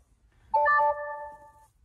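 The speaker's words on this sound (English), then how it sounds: "And then we get some sort of a notification." A CarLock car security device sounds a vibration-detection notification alert: a short, loud electronic chime of stacked tones that rings briefly and then fades, heard alone without talk.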